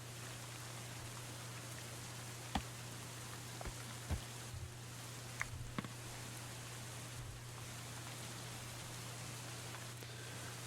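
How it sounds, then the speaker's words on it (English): In the medieval colony game Going Medieval, rain keeps up a continuous soft hiss, with a few sharp droplet taps scattered through it, quiet and unaccompanied by any voice. "Oh, I love the rain sound in this game."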